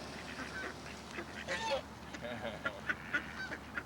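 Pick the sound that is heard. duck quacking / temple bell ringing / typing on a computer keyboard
duck quacking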